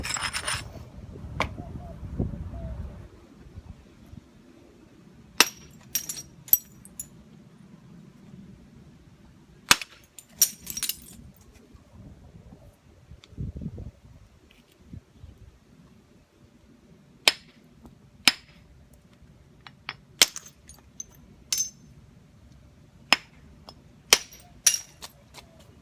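Stone being percussion-knapped on a slab: sharp, loud cracking strikes spaced irregularly through the span, some in quick pairs or clusters, with faint scraping and handling between blows and low rumbling at the start.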